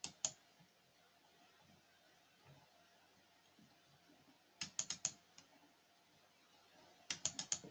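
A computer keyboard and mouse give short bursts of crisp clicks, one cluster near the start and two quick runs of several clicks later, close and faint against a quiet room with no talk.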